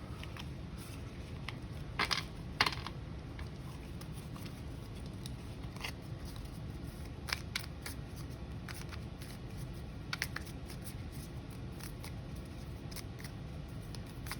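Cards shuffled and drawn for a pick-a-card reading: soft continuous riffling and rustling with sharper snaps and flicks scattered throughout, quiet and close, with no speech.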